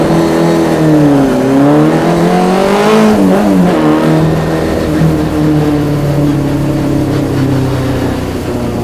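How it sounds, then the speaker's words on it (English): A 1965 Morris Mini Cooper S race car drives through a neighborhood, its engine loud and close with rising and falling revs as it accelerates and shifts, then settles into a steady drone. "Every time you want to take your race car around the neighborhood."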